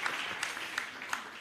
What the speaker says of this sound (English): Give me a round of applause too now.